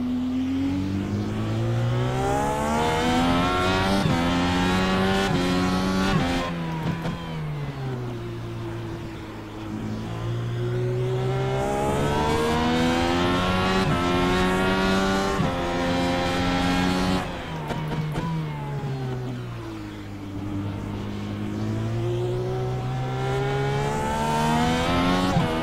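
IndyCar engine in the iRacing sim at Circuit Gilles Villeneuve, loud and continuous, rising and falling through gear changes with sustained high revving across the whole stretch.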